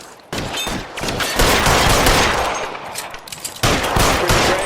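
Dense, loud gunfire crackles almost nonstop in L.A. Noire, overlapping bursts and shots close by with only brief dips in the barrage.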